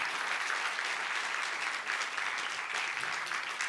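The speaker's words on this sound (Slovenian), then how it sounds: "Dajte en velik aplavz doktorju Danu Podjedu" A conference audience applauds a guest speaker being introduced at a partnership event, a sustained, even wash of many hands clapping at a steady level from start to finish.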